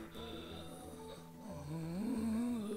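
A character in the Jump Force fighting game breathes heavily, a rough, rasping, snore-like panting that grows louder and strained toward the end.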